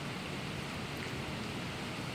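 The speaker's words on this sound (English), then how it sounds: "the sound of the rain" Steady rain falling, a soft, even hiss of drops with no breaks, faint and constant throughout.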